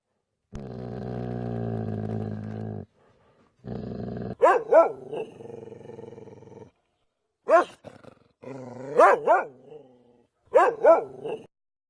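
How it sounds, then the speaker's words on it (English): A dog in an apocalyptic adventure video game growls with a long, low rumble. It then gives several loud barks in short bursts, close and clear, with silent gaps between them and no talking. "A dog approached its master slowly."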